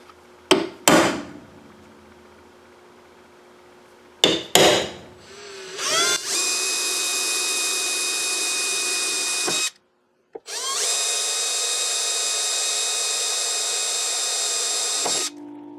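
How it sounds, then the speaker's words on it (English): A hand drill bores into a steel door, starting with a few sharp knocks and brief bursts, then running in two long, loud, steady high-pitched whines separated by a short pause. "just use a hand drill and screw it in, get it drilled out"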